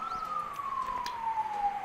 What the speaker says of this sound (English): some ambulance, right? It might be annoying